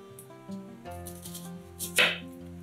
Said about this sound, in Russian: Одну красную луковицу нарезаем колечками